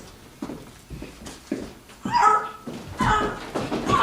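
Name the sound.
actor imitating a sick dog on stage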